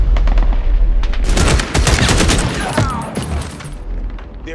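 An action-film gunfight erupts with loud, close machine-gun fire in rapid bursts of sharp reports, mixed with booms, before the shooting fades slightly toward the end.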